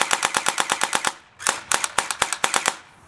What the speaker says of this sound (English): Sounds pretty good when you shoot.